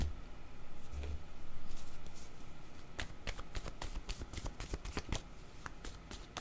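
Playing cards shuffled during a French-language card reading, a quiet riffling that builds into a dense run of crisp, rapid card flicks near the end, close and alone with no talk.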